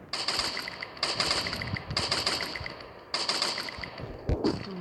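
Video game gunfire: rapid automatic bursts of shots in several runs of about a second each, loud and continuous, with a heavier single thump near the end.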